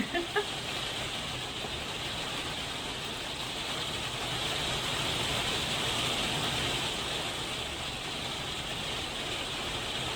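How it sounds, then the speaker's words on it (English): Steady broadband hiss of rain falling continuously throughout, like a constant downpour, with a couple of faint clicks at the very start. "I'm sorry about the rain."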